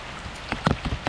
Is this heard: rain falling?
yes